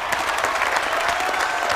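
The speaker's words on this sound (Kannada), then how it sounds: "ಜೋರಾಗಿ ಚಪ್ಪಾಳೆ" A studio audience claps loudly and steadily in a dense burst of applause, with faint crowd noise under it, at a celebrity game show.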